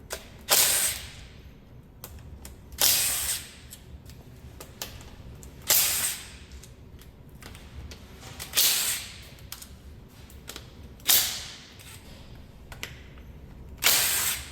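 Impact gun removing transmission pan bolts, firing in about half a dozen short loud whirring bursts spaced a couple of seconds apart, close up, with quiet shop background between them.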